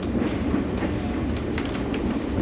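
A 1957 GP9 diesel locomotive on the New Hope Railroad, originally built for the Canadian Pacific, pulls a passenger train with a steady loud rumble and rolling wheel noise, punctuated by scattered sharp clicks, heard from on board with no talk.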